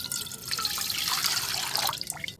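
Water poured over freshly cut banana flower with turmeric in a bowl, a steady splashing trickle running close and fairly loud for a couple of seconds before stopping.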